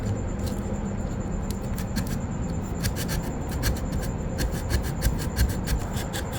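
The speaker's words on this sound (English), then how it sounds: "start sanding some of the stuff, some of the little corners that we can." Scratchy hand sanding of a 3D-printed plastic piece, short repeated rubbing strokes into small corners over a steady background rumble, up close.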